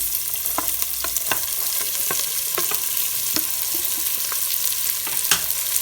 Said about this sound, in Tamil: இப்போ நம்ம கட் பண்ணி வச்சிருக்கக்கூடிய வெங்காயத்தை இதில் சேர்த்துடலாம்